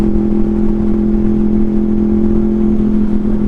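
A Honda VFR800 motorcycle engine drones steadily and loudly up close, a strong sustained hum held evenly throughout the short stretch with no talking over it.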